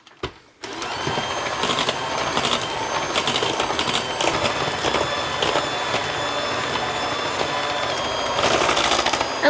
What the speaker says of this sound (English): I'm going to go ahead and turn back on my electric mixer and get this all blended together.